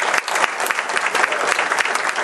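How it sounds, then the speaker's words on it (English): Applause from the audience at a business presentation, a couple of seconds of steady, fairly close clapping with no talk over it. "So if we can give Dan a round of applause."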